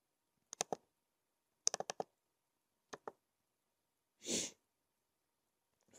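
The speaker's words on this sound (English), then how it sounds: "I bet my clicking is going to be like super loud for you guys" A few crisp mouse clicks in small clusters, close and quiet, followed by a short breathy burst, with silence between.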